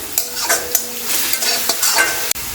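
Cumin and garlic being stirred in a hot pan, repeated spoon scrapes and taps in uneven rhythm over a crackling sizzle, close and loud.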